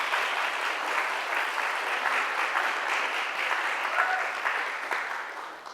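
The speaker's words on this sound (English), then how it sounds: "give them a round of applause this morning" A morning audience at King University claps for a panel of students in a dense, steady wash of applause that tapers slightly toward the end, with no talking over it.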